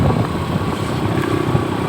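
A red motorcycle rides off-road, its engine a loud, steady, close rumble throughout the short stretch, with no talking.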